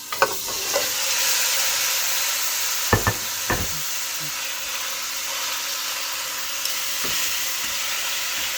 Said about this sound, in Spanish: una vez que el aceite ha calentado, entonces vamos a sellar las costillas